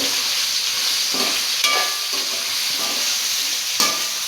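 Steady frying sizzle with intermittent scraping strokes as soya chunks are stirred around a pan, several stirs over the few seconds, close and fairly loud.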